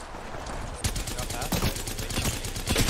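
Rapid bursts of automatic gunfire from Apex Legends, loud and close, with repeated sharp shots in quick succession and some faint talk underneath.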